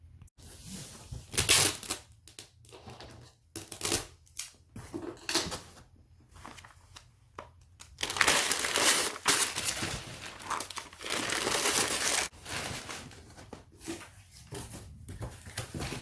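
Newspaper is crumpled and stuffed around heavy vintage bongo drums in a parcel, giving close, irregular bursts of crinkling and rustling with brief pauses between handfuls.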